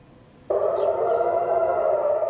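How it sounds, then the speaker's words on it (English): An air raid siren in Jerusalem and Tel Aviv starts abruptly and holds a steady, wailing civil-defense tone, fairly loud and sounding alone. "Air raid sirens sound in Jerusalem and Tel Aviv"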